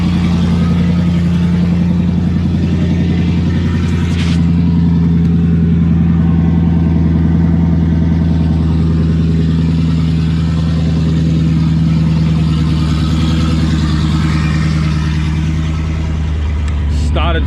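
An LS1 V8 in a 4WD that has sat unused for a week starts and settles into a steady, loud, deep idle with a constant low rumble throughout.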